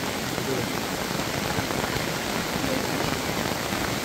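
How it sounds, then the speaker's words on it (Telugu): Heavy rain falls without a break near the Kukke Subramanya temple in Karnataka, a steady, dense hiss of drops on surfaces that stays loud and even throughout. "ట్వంటీ ఫోర్ అవర్స్ వర్షం పడతానే ఉంది నాన్ స్టాప్గా"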